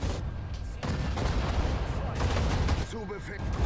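Dense gunfire and artillery from the Sudden Strike 4 strategy game: a continuous rumbling barrage of shots and booms, with a brief voice near the end.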